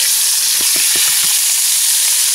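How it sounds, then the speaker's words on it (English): Loud, steady sizzling of Montreal-steak-seasoned deer meat frying in a hot cast iron Dutch oven, with a few soft scraping stirs underneath the constant hiss. "And we can hear the sizzle."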